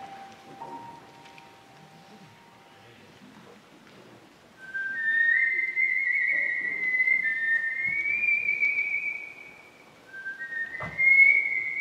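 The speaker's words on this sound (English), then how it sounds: "the only thing you could find in video games that features a whistle" Someone whistles a tune from a video game live at a gamer symphony orchestra concert, a clear, fairly close melodic whistle with a few sustained phrases and brief pauses between them.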